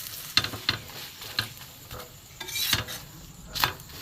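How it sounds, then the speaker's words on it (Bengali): A paratha fries in a pan with only a little oil, giving a hissing sizzle broken by repeated clinks and scrapes of a utensil against the pan. No one speaks. "এবার আমি অল্প অল্প করে তেল দিয়ে এটাকে ভাজবো।"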